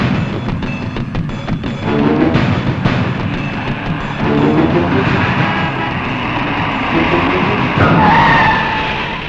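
A large lorry brakes hard to a stop, with a long harsh tyre skid and heavy engine rumble that sweeps and squeals near the end, loud and close, with faint voices mixed in.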